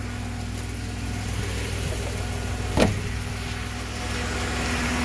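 A 2000 Dodge Dakota engine idles with a steady low hum throughout, joined by a brief louder burst of noise partway through.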